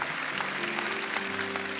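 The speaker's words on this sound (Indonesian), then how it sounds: "Mari kita berikan tepuk tangan untuk Tuhan Yesus." Applause from a church congregation forms a dense, steady clatter of many hands, with sustained tones from instruments or singing running underneath.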